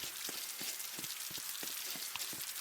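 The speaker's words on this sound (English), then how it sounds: "It's just raining." Rain patters steadily in Roblox Bee Swarm Simulator, a constant hiss of fine drops with scattered soft ticks, even and unbroken throughout.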